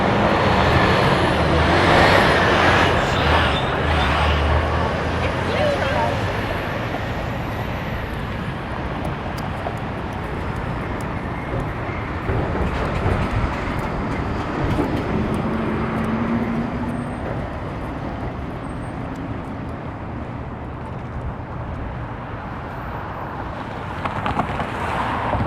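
A Spadina city bus moves through busy downtown Toronto traffic on a winter street, with a hiss of air brakes near the start and a continuous engine and road rumble that swells and eases.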